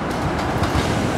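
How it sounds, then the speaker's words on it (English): IRT subway train rolling loudly nearby, a dense rumble with rhythmic clickety-clack of wheels over rail joints throughout the short stretch. "That's a train right there."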